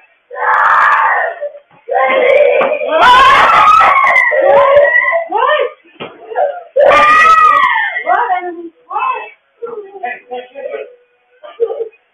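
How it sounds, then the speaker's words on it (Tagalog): A young girl screams and wails in panicked bursts, loud and close, with sobbing cries between the long shrieks. "Maririnig ang takot sa sigaw ng kanilang anak."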